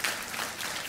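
A church congregation at Sunday worship claps to welcome visitors, a brief burst of dense applause, fairly loud and close.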